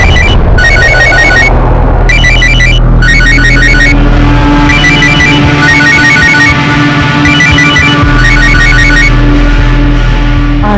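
A telephone rings over and over without being answered, sounding in repeated loud, trilling electronic bursts with short gaps between them, layered over a steady background drone.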